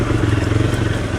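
A motorcycle being ridden on a slippery road, its engine a loud, close, rumbling drone with a fluttering, uneven throb throughout the short stretch, no voices heard.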